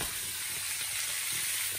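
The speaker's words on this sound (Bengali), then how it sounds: "এই মাছটা ভাজা করুন" Constant loud hissing sizzle of fish frying in a pan, heard up close and unbroken for the whole moment.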